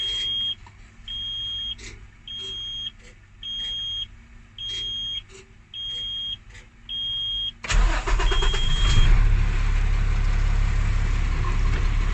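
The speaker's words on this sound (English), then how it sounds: "I will now start my truck." A truck with air brakes sits with repeated warning beeps and a low buzzer pulsing in a steady rhythm, then the diesel engine cranks and catches, settling into a loud, close, rumbling idle.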